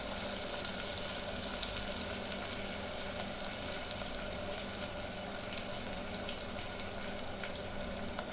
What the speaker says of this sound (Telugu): కొంచెం మనం ఫ్రై చేసుకుందాం.